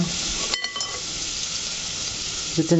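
Meatballs browning in a frying pan give a loud, steady sizzle that runs the whole time, with a couple of brief clatters of stirring or utensil contact near the start and end.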